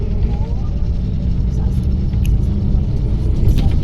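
A Shivshahi bus pulls away from a toll plaza, heard from inside as a steady, loud, low engine rumble and road drone.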